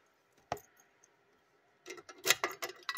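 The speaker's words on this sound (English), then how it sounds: "Oops, here goes the keys." Keys jangle in a treasure hunter's safe, a single sharp metallic clink followed after a pause by a cluster of bright rattling jingles, close and distinct.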